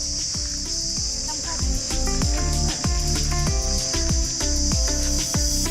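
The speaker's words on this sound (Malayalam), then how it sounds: "നല്ല ചീവീടുകളുടെ സൗണ്ട് വരുന്നുണ്ട്." Crickets on a shaded forest walk in Auroville give a steady, shrill high-pitched drone throughout, heard under music with regular percussive beats.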